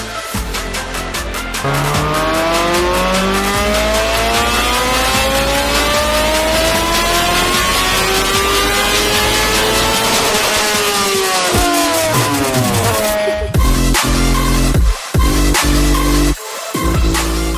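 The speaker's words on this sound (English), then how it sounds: "with a mixture of cars and motorbikes making display runs on the Coventry Ring Road, along with drifting and classic car displays" Cars and motorbikes make display runs along the Coventry Ring Road at a street-racing event, engines roaring loud and close as they accelerate through the gears, rising and falling in pitch for a long continuous stretch.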